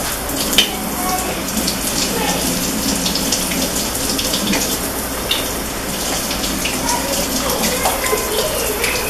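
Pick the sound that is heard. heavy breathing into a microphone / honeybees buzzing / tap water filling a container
tap water filling a container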